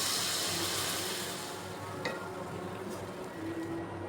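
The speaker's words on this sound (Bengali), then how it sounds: "নাড়াচাড়া করে মশলাটাকে কষিয়ে নিব।" Spice paste of salt and turmeric stir-fried in a pan for a burger filling, heard as a steady close hiss of frying with soft scraping of a spoon throughout and no voices.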